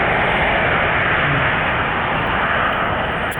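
A fixed-wing airplane, likely departing from JFK airport in New York, passes overhead as a steady, loud broadband engine roar that holds constant throughout, with no voices present.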